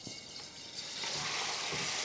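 About two cups of water being poured into a hot pot of mutton biryani masala, making a steady hissing, rushing sound that grows slightly louder and fuller partway through, with no voices.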